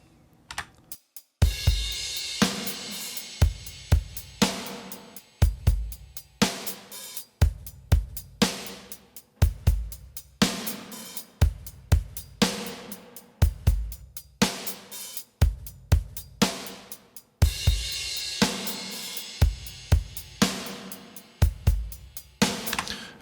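Metal drums run through a wet parallel plate reverb play a fast, driving pattern of regular hits, with snare cracks, cymbal wash and long reverberant tails, loud and continuous with no voices.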